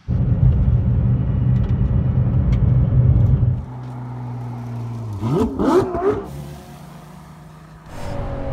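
A Ferrari LaFerrari hybrid engine rumbles steadily, drops to a lower hum, then revs up sharply in a rising whine as the electric motor joins, before settling again; no one speaks.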